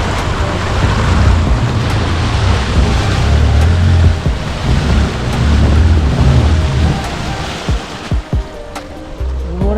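Monsoon floodwater surges across a submerged road, a loud, close, continuous rush and slosh of waves over a low rumble that eases briefly near the end.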